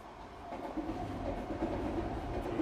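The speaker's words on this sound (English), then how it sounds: "And above us you'll see the SkyTrain passing through." Elevated SkyTrain passing overhead in Richmond, Metro Vancouver, a steady low rumble and rolling rail noise heard from street level, moderately distant and even throughout.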